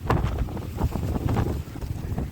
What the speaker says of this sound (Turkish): Nasıl rüzgar var burada.